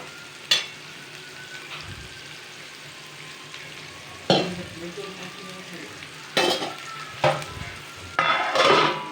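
A spatula stirs a mixed vegetable curry in a pan over a soft background sizzle, with a few sharp scraping strokes and clatters spaced out, the last ones bunched together and louder.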